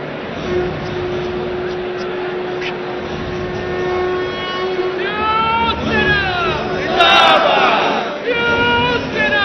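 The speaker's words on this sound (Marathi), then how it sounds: "या कार्यक्रमाला जमलेली ही आपण गर्दी पाहत आहे" A large crowd gathered at a rally in the Worli Dome, a dense roar of voices with rising chants and cheers swelling midway, while a reporter speaks over it.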